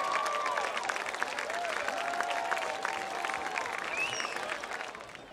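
A crowd at a Grace Christian Academy homecoming applauds its alumni with dense, sustained clapping and some cheering, heard at moderate distance without a break.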